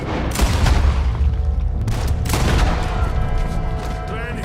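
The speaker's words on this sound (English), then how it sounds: "Lenny is fatally shot during the chaos." Chaotic gunfire from a shootout in Red Dead Redemption, dense overlapping shots and booms throughout, loud and close with no pauses.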